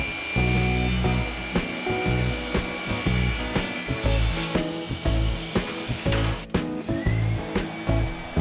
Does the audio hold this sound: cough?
no